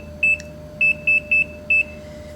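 An oven timer beeps five times in short, loud, high-pitched bursts, one single beep and then a quick run of four, with a faint steady hum underneath.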